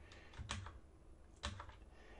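A computer keyboard is tapped in two quiet clusters of keystrokes about a second apart, close but faint, with no talk.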